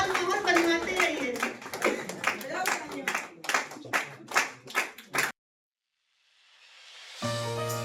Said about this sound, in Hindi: तालियां बजाते रहिए, माहौल बनाते रहिए